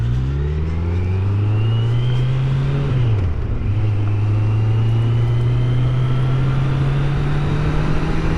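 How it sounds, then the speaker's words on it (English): A steady, loud engine drone, as if heard from inside a moving vehicle, holds one pitch, dips briefly as the engine shifts, then settles again, with passing traffic on the road blending into the drone. "there is actually traffic here for once"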